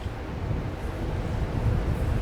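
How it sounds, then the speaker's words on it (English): Steady wind blows outdoors by a doorway, a dense low rumble buffeting close to the microphone for the whole stretch, with no voices. "It is quite windy."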